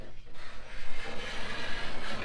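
A hand scraper dragged firmly across wood while preparing a Wharram Tiki 21 catamaran hull for light sanding, giving a continuous rasping scrape with steady, pulsing strokes, close and moderately loud.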